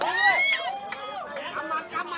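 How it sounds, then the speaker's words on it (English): An excited crowd at a bareknuckle boxing show in Thailand, a dense babble of cheering and shouting voices with rising whoops, close and loud throughout. "Tell you what, the crowd has raised the levels as well."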